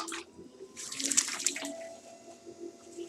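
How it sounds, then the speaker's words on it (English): A tap in a studio is turned on and water runs for about three seconds, a soft hissing splash that swells and then settles at a low, steady level. "it'd be a little hard to get water otherwise. Turn it on."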